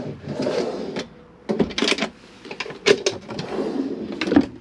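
Wooden drawers in a Malibu I490LE motorhome slide open and shut several times, with sharp knocks and rattles between rolling scrapes, close by.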